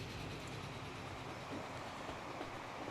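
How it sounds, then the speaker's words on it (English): Passenger locomotives pulling a train in the game Transport Fever give a steady, dense rumble with faint rail clatter, continuous and fairly close, with no pauses or talk. "we worked on our new passenger train line, which we are looking at right now with these Coronation locomotives"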